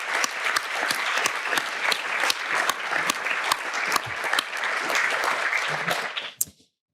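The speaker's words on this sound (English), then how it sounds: "let us give a round of applause for our reviewers and faculty and staff" An audience claps steadily for scholarship reviewers, faculty and staff at a welcome event, a dense, even round of applause that holds for about six seconds before cutting off abruptly.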